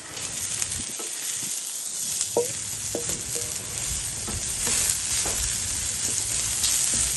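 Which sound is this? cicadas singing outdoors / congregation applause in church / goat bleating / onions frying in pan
onions frying in pan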